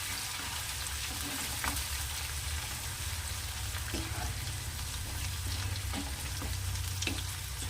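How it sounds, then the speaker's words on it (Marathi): Chopped onion with ginger garlic paste fries in a pan for Vidarbha-style dal wange, giving a continuous sizzle over a low hum with occasional stirring knocks and no voices. "कांद्याचा कच्चेपणा गेला पाहिजे कांदा पकलेला आहे"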